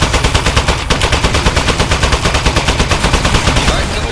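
Rapid sustained machine gun fire from a weapon in a video game, loud and continuous with dense rhythmic bursts throughout and no break.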